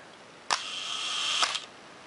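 A Nikon F2 camera shutter set to one full second: a sharp opening click, a held whirring interval of about a second, then a second closing click, close and isolated in a quiet room.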